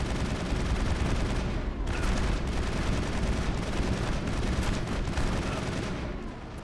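Sustained, dense gunfire and blasts in the video game Mass Effect 1, with shotgun fire among them, forming a loud, continuous battle din with no clear breaks.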